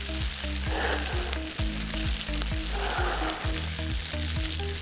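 Garlic and calamari fry in a pan with a constant loud sizzle, and soft rhythmic stirring knocks run underneath.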